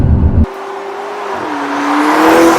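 A titanium silver 2015 McLaren 650S Coupe with a 3.8-litre twin-turbo V8 goes from a low idle burble into a steady rising drone, the engine note climbing and holding loud and close with no talk.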